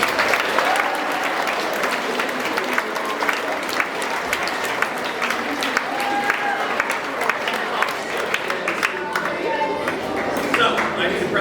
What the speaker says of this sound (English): round of applause for Dr. Denton.